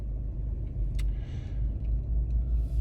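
A modern car reverses slowly out of a parking space, its engine a low, steady, fairly quiet rumble with a couple of faint clicks and no talking.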